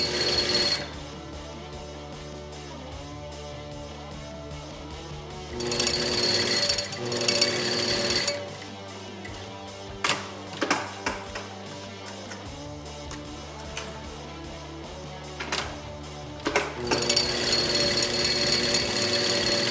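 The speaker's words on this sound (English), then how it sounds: "you're gonna wanna then sew up your sides and then stop after that" A sewing machine stitches up the sides of a fabric visor hat, a loud steady mechanical whir with bursts of faster, brighter running and brief pauses between seams, no talking.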